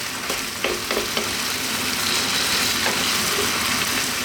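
Onions frying in a pan alongside lamb, curry leaves and cumin seeds for a lamb curry, a loud, close, continuous sizzle with a few stirring scrapes early on and no talking.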